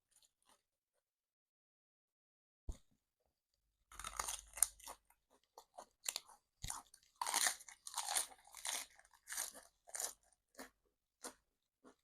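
Close, crisp crunching and chewing while eating fish balls, irregular bursts of crackly bites after a quiet start, loud and alone with no speech.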